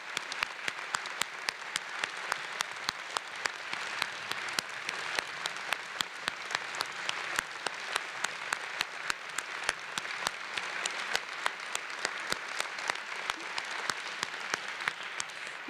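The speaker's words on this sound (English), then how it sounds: "Please give a round of applause" A commencement audience at a law school ceremony applauds a professor with steady, sustained clapping from a large crowd, filling the room evenly throughout.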